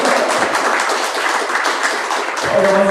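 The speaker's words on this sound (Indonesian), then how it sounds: "Mau tepuk tangan dulu kita semua dulu." A crowd claps together at a Lions Club Jakarta Indo Prima handover ceremony, a dense, steady patter of many hands at full volume that carries on for several seconds without pause.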